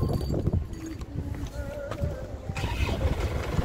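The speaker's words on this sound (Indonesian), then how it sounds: "Kita nyalakan mesin, yuk." A warm engine in a black 2014 Toyota LS Turbo cranks and catches, settling into a low, close rumble while people talk nearby.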